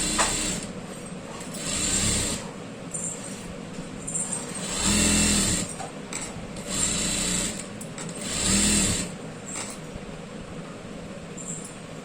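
A sewing machine stitching fabric piping, running in several short bursts of rapid mechanical whirring and clatter with brief pauses between them, close and fairly loud.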